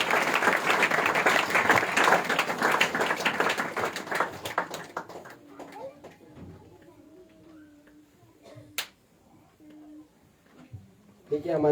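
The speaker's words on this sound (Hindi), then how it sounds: "उनको भी आगे हम ताली बजाकर प्रभु के नाम से स्वागत करेंगे" A church congregation claps in welcome at a Christmas service, a dense burst of applause filling the first few seconds and then thinning into scattered claps and small noises.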